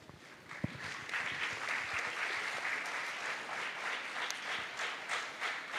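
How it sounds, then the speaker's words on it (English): An audience at a Brahmo conference session in Hyderabad applauds, a dense, sustained wash of many hands clapping at moderate distance, steady for several seconds with no voices over it. "By the claps, you can make out who's getting the maximum."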